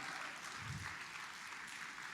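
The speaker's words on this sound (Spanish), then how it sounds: "Vamos, dale un aplauso al Señor." A church congregation claps for the Lord during a sermon, with dense, steady applause that sounds faint and distant throughout, and no voices over it.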